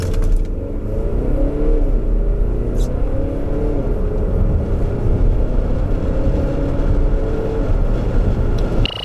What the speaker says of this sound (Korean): 여기서 잠시 볼보 XC60 D4의 가속 성능에 대해서도 알아볼까요?